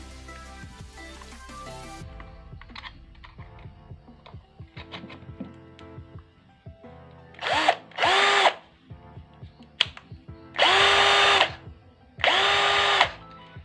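A cordless drill powered by a modified battery with a replacement BMS whirs in four bursts of about one second each, with quiet handling clicks and rustling in between.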